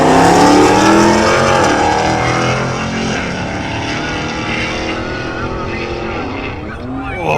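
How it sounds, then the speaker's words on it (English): A Dodge SRT and a big-power Nissan R32 GT-R roll race, their engines roaring loudly as they accelerate past, then fading into a steady drone, with a crowd and commentary faintly mixed in. "Next up, Dodge SRT versus big power R32 GDR."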